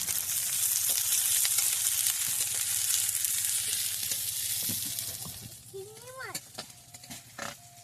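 Vermicelli and vegetables fry in a pan with a soft steady sizzle and occasional stirring clicks, fading in the second half as a voice talks over it.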